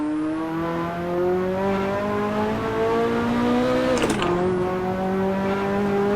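A Ferrari F40 turbo engine in Assetto Corsa holds a loud, steady high drone that dips briefly at a gear shift before climbing again, with a faint turbo whine on top and no voices.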